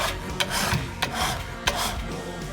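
A metal file rasping along a knife blade in steady back-and-forth strokes, close and loud, with a sharper accent at the start of each of several passes.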